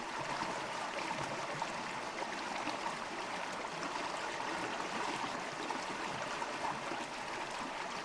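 Turquoise glacial meltwater stream in the Canadian Rockies rushing beneath a bridge, a steady broadband hiss and gurgle of flowing water, constant and unbroken with no voices.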